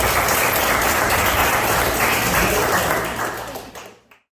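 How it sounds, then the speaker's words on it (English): An audience at a health panel show gives a dense, steady round of applause that holds loud for about three seconds, then thins and fades out quickly into silence. "Round of applause."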